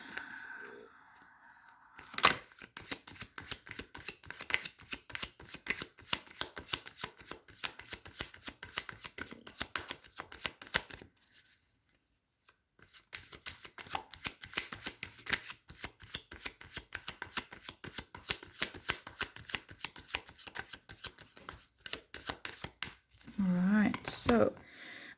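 A tarot deck is shuffled by hand in long runs of rapid, crisp card flicks that pause briefly midway, then resume steadily, close and clear, with faint talk near the end.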